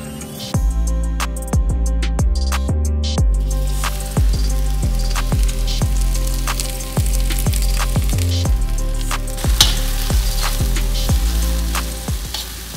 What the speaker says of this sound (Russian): Когда жаришь лук на костре в казане.